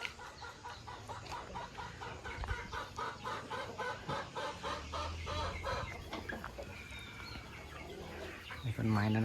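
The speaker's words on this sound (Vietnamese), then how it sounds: "Trong này thì em để gọi là gà con nhé." H'mông native hens and chicks clucking in a pen, a busy rhythmic stream of close clucks and soft peeps with a few louder calls near the end.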